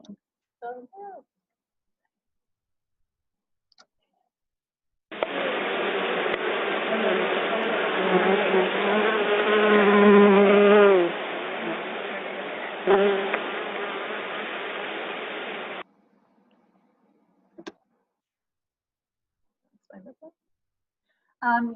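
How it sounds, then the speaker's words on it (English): A swarm of honey bees gives a loud, dense buzzing drone that holds steady for about ten seconds and then stops abruptly, with brief scraps of sound before and after. "So this is a video of our bees swarming."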